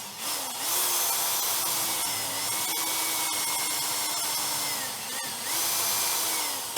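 A power drill runs at low speed while fitting running boards to a 2021 Sprinter van, giving a steady close whine with slight pitch dips and brief catches near the start and around five seconds.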